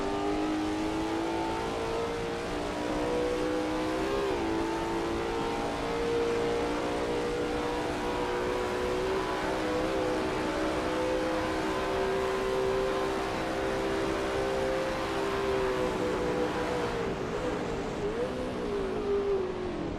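Lola T70 MkII Spyder race car at Bathurst in a racing video game, its engine a loud, steady, near drone with harmonic whine holding high revs through corners for the whole stretch, no talk.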